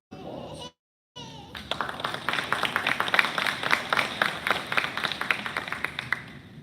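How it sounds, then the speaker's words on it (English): A graduation ceremony audience bursts into applause after a brief silent gap, the dense, even clapping of many hands building quickly and holding steady, moderately close. "give your family and friends an applause"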